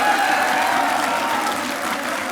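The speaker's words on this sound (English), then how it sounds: "may we have a big round of applause for them" Audience at a college fest inaugural ceremony applauds the student council coming on stage, a steady, dense wash of clapping from a large crowd that holds throughout.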